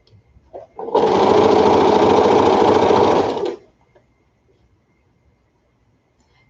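A domestic sewing machine stitches quilt fabric in one steady, loud burst of rapid whirring that lasts about three seconds, then stops and leaves near silence.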